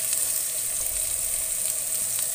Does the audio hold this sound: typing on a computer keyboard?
no